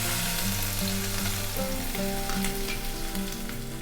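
Coarsely ground ginger-garlic paste frying in a pan, a loud continuous sizzle with occasional stirring scrapes, no voices.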